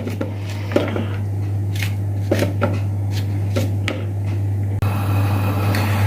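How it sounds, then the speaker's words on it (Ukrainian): Button mushrooms chopped into pieces with a knife on a board, a run of crisp, uneven cuts and taps up close over a steady low hum from the stove, with no talking. "Поки жариться наша цибулька, ми швиденько наріжемо гриби"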